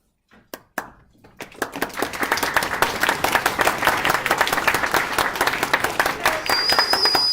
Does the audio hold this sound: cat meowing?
no